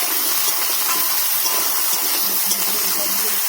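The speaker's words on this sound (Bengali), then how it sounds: "এই যে পুঁইশাক ডাঁটা আলুটা দিয়ে দেবো তেলের মধ্যে" Potatoes and Malabar spinach stems fry in hot oil, giving a loud, close, continuous sizzling hiss with no break.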